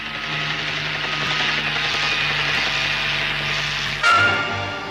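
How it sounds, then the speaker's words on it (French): A constant whirring helicopter drone fills the scene, steady and fairly loud, ending with a sudden shift in the noise near the end. "l'hélicoptère"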